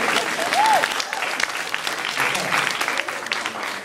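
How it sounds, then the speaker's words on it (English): Convention panel audience at New York Comic Con clapping hands in a steady, dense burst of applause that fills the room throughout, fairly loud with a brief voice-like tone early on. "clap your hands if you think guys kissing is sexy"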